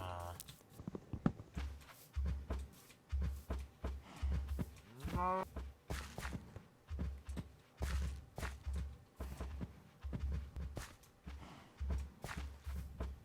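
Cattle in a village pen in a survival video game, with a drawn-out moo rising clearly once, amid repeated thudding footsteps and shuffling movement close by.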